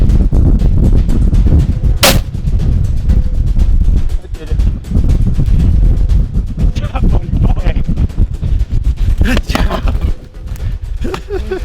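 A rifle shot rings out during a mule deer hunt in Montana, a single sharp loud blast over wind noise, with excited voices talking before and after.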